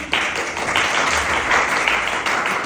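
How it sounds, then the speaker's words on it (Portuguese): A church congregation applauding together during a Portuguese-language evangelical service, a steady dense wash of clapping that holds loud and even for several seconds. "Aplauda Jesus por isso"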